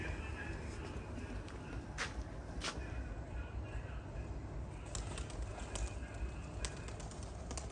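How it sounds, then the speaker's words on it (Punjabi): A pink-eyed racing pigeon coos softly outdoors, low murmuring calls under steady background noise and someone talking nearby, with a few sharp taps and rustles. "ਆਹ ਕਬੂਤਰੀ ਹੈ"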